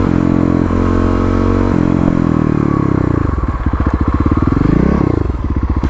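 A motorcycle's engine drones loudly and close as it slows on a wet road, the pitch falling and then pulsing in a rapid rhythmic thrum, with no talk.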